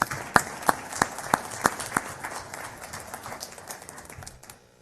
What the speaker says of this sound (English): I think we should give him a round of applause anyway